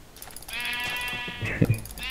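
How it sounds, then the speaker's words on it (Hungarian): Sheep in the video game Minecraft bleat in a couple of wavering, synthetic cries close up, followed by a short low thump, with a player's voice briefly audible around them. "Birka!"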